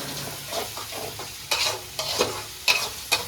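Onions fry in hot oil for a chicken gravy, a steady sizzle broken by several distinct stirring scrapes, close and moderately quiet, with no talking.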